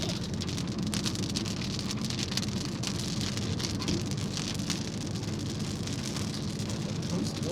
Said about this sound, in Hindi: जोर से बारिश हो रहा है।